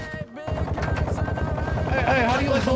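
Rapid automatic gunfire in Call of Duty Warzone, a loud, fast stream of shots after a brief quiet moment, with the bursts continuing close and dense to the end.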